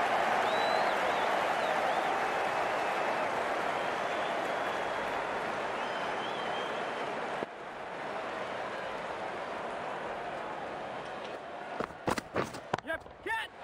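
Crowd at a cricket match applauding a boundary four, a broad wash of clapping that holds steady and then fades, with a few sharper claps and brief voices near the end.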